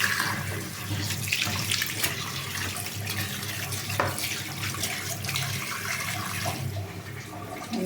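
Cut pieces of katla fish are washed under a running tap, giving a steady, fairly loud gush of water that continues for the whole stretch with small splashes and shifts in the flow.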